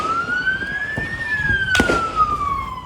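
A police car siren wails through footage of the Bondi terror attack, one long tone that rises and then slowly falls, steady and fairly loud, with a short noisy burst near the middle.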